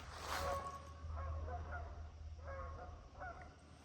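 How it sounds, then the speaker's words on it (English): Several honking calls from geese flying overhead ring out in irregular bursts, somewhat distant, over a steady low rumble. "some geese flew overhead"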